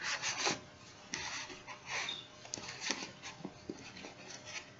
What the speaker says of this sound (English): Because it's powder, I'm unscrewing it slow because I don't want it to spill